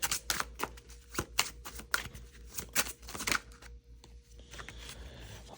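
Tarot cards are shuffled and drawn in a quiet room, with a close rapid series of soft flicks and slaps that thins into a few lighter card movements near the end. No talking.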